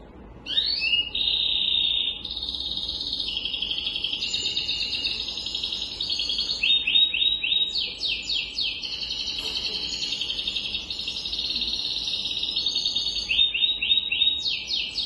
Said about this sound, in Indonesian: Kalau yang ini suara burung kanari.